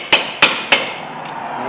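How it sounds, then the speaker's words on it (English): A hammer strikes a brake rotor on a 2008 Toyota Corolla three times in an even rhythm, each a sharp metallic clank with a short ringing decay, close and alone. "Just give it a few nicks with the hammer."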